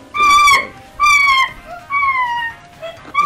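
A voice imitates a whimpering dog during a horror video game session, giving several high, wavering whines in short bursts, loud and close, with pauses between them.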